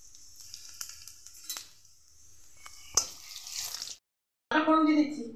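Bay leaf and whole cumin seeds spit and sizzle in hot oil, a close crackling hiss with sharp pops that swells and fades, broken by a short silence, then a voice is heard at the end.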